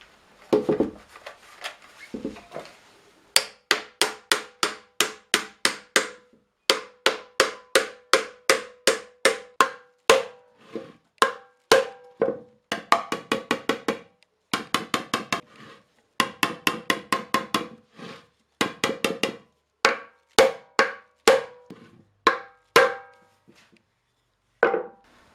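A new metal hoop, rubbed with chalk, is hammered down onto a 30-litre oak barrel under repair. Sharp ringing blows land close and loud in quick steady runs, with short pauses between bursts.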